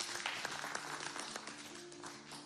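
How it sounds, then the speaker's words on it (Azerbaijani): A studio audience applauds on a television show hosted around an eye doctor, producing a faint, steady wash of clapping with a low tonal hum underneath. "alqışlayaq"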